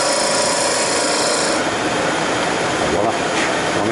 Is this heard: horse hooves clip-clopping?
no